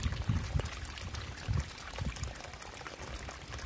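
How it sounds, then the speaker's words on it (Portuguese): Water gushes and gurgles out of a freshly dug pipe well, carrying small pebbles, in uneven low splashing bursts that stay close and steady throughout. "A água já tá vindo, ó, as pedrinhas."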